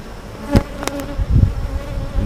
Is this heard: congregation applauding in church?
no